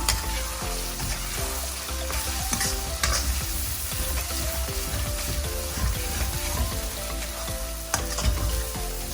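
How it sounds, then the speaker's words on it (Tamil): Seasoned egg with pepper and salt is stirred and scrambled in a hot pan over high flame, giving a loud, continuous sizzle with scraping, clattering stirring strokes throughout and no talk. "இப்போது இந்த முட்டையை நல்லா கலந்து விட்டுக்கலாம்"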